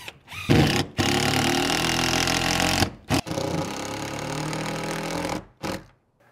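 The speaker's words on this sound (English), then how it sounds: "we can go back in and finish off all of these screws" A power drill drives screws into a window flange on an off-grid tiny house, giving three long whirring runs separated by short pauses, loud and close, with no talking.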